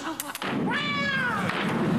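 A cat meows once, a drawn-out harmonic cry at a deserted war front, preceded by short thumps and set over a steady background hum.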